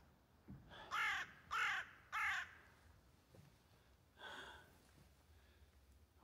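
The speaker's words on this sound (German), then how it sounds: "Aber dort oben ist ein Vogel, der schreit uns an." A crow caws overhead on a hike in northern Luxembourg: three loud, evenly spaced harsh caws, then a fainter fourth call after a pause, over quiet outdoor background with no talking.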